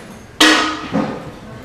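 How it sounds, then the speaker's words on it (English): A single small BB pellet drops into a tin can with a sharp metallic ping, followed by a faint second bounce, then quiet. "That's the sound of 1 BB dropping in the tin."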